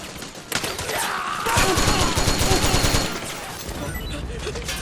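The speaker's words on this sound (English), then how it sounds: "Suppressing fire!" Suppressing gunfire in the Metal Gear Solid 4 video game, rapid automatic bursts and overlapping shots in a dense fusillade, with shouting voices mixed in over the firing.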